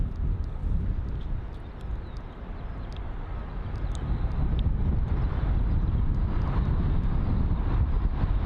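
An Emirates A380 airliner departing Heathrow runway 27 left, a broad steady jet roar that swells slightly toward the end, heard from a distance with wind buffeting the microphone.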